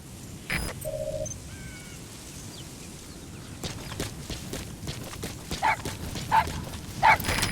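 A wild dog pup in the video game Metal Gear Solid V gives a few short, sharp barks and yips toward the end over an ambient outdoor background, with scattered faint game tones earlier.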